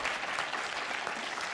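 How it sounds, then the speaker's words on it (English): Audience at a Comic Con panel applauding a guest, dense steady clapping from a large crowd filling a hall, brief and fairly quiet. "give a massive round of applause to our guest, Auntie Lemke."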